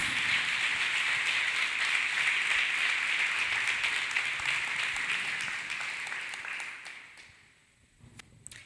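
A church congregation claps hands together, a dense, steady patter of many hands. It stays loud for several seconds, then fades out to a few scattered claps.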